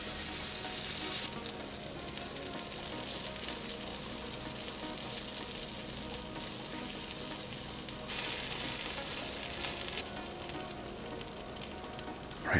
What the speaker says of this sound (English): we're going to start adding our batter on there and making our pancakes